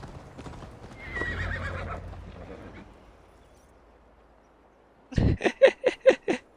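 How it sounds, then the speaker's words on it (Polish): A horse in the video game Assassin's Creed Valhalla, with game ambience early and then a burst of rapid hoofbeats close and loud near the end. "Mamy lepszego konia."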